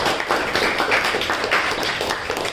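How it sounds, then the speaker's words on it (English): An audience at a live talk show claps in a steady, dense patter. The applause is fairly loud and continues without a break. "That's why you clap?"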